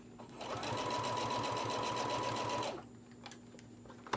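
A sewing machine runs fast and steady for about two seconds while back stitching a zipper pouch, its rapid needle chatter loud and close, then stops and leaves a few small clicks.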